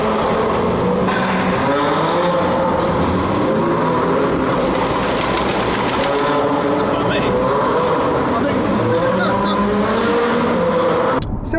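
A 2020 Mini JCW Clubman's aftermarket exhaust roars inside a big tunnel, a loud continuous engine drone with rising and falling revs echoing off the walls for the whole stretch.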